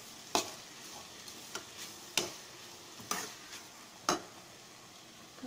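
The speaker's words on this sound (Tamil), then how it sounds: "முட்டைக்கோஸ் வேக கொஞ்சம் வதங்குறதுக்கு டைம் கொடுப்போம் ஃப்ரெண்ட்ஸ்." Cabbage sautéing in a pan with salt, a faint low sizzle broken by five or six sharp, evenly spaced scrapes or taps of a spatula, quiet and close, no speech.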